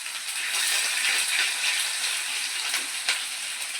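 Onion, green chilli and chana dal frying in oil over a low flame for jowar upma, giving a steady, close, continuous sizzle and crackle with a few brief sharper pops and no talking.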